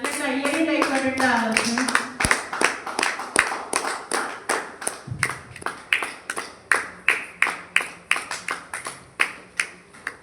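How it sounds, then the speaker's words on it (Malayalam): After a brief stretch of talking, an audience breaks into clapping: steady, rhythmic hand claps that rise and fall in bursts, close and fairly loud. "നല്ല കയ്യടി ഉണ്ടായിക്കോട്ടെ."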